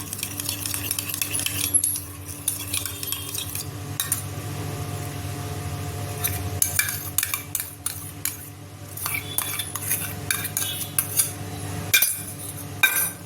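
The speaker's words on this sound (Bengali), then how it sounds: "দিয়ে দেবো একটু টক দই, ভালোভাবে ফেটে নিচ্ছি" A utensil beats sour yogurt with homemade biryani spice mix for mutton biryani, clinking and scraping against a bowl in quick irregular bursts with short pauses between.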